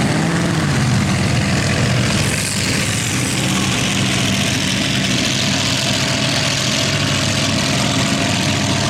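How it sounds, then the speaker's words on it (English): Racing power boat engines on the Upper Hawkesbury River at Windsor drone steadily and loudly throughout, a continuous low rumble with no pauses and no voices. "you'd hear the boats going again"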